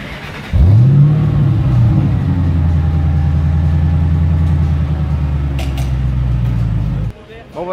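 A supercharged Saleen Mustang engine starts up and runs with a deep, loud, close rumble, climbing briefly in pitch early on and then settling into a steady, heavy idle for several seconds before cutting off. Voices can be heard faintly underneath.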